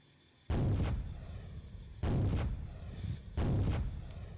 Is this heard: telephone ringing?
no